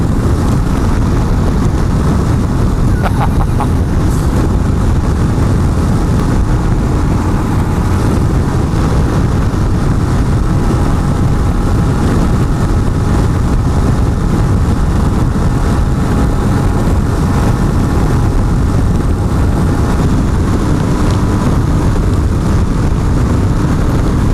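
A 2021 Royal Enfield Himalayan motorcycle's engine drones steadily while riding and overtaking, mixed with heavy roaring wind buffeting that stays loud and unbroken throughout.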